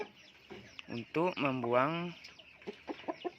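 A chicken suffering from a snoring, rattling breathing condition makes a brief, near vocal sound lasting under a second, with a person speaking around it.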